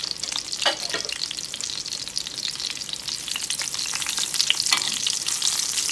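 Breaded veal cutlets frying in a pan: a steady, close, crackling sizzle with small pops, rising slightly in intensity and running throughout without talk.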